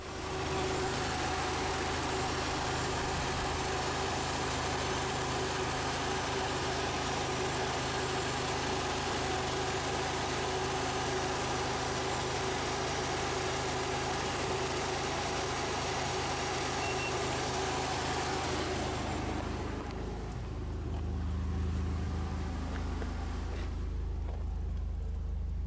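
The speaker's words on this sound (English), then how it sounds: "After a short run to warm up, the fan came on, which should be at 85 degrees C." Classic car engine idling steadily after warm-up while the electric radiator cooling fan runs, a loud continuous whir and hum that drops away near the end, leaving a quieter lower rumble.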